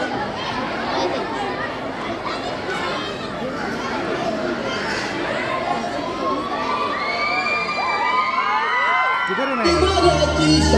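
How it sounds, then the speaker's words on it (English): An audience cheers and shouts loudly and without a break at a school annual day function, with children's voices prominent, whoops and chatter filling the hall, and the noise swelling toward the end. "So please welcome them with a huge round of applause."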